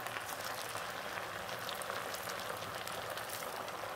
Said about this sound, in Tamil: ஒரிஜினலான கடலெண்ணெய் இது, நல்லெண்ணெய் மாதிரி பொங்குது பார்த்தீங்களா